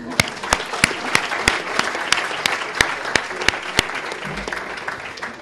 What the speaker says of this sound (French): Et je voudrais que vous vous auto-applaudissiez.